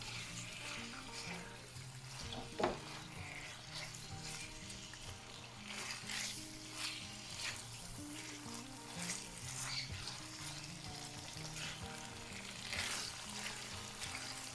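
Yakisoba noodles being stir-fried in a pan with sauce, sugar and Worcestershire sauce, giving a steady close sizzle with occasional scraping and stirring clatter throughout, no voices.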